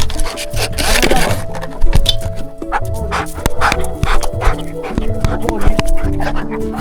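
A combat service dog in special-operations training barks and whimpers in quick yips and whines close by, while a handler talks encouragingly throughout amid outdoor movement noise.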